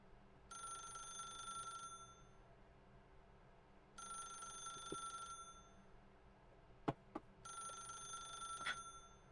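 A telephone in The Stanley Parable rings three times, each bright, electronic trill lasting over a second with long gaps between, joined by a few sharp clicks over quiet room tone.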